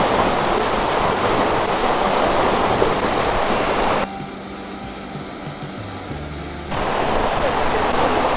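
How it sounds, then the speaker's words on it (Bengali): Jibhi Waterfall pours in a loud, continuous broadband rush of falling water from close by. It drops back to a softer roar for a couple of seconds midway and then returns to full strength. "বিরাট কিছু জলের ধারা নেই তবে কন্টিনিউয়াস পড়ছে"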